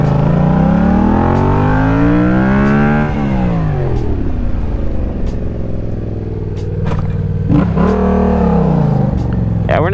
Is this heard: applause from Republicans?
no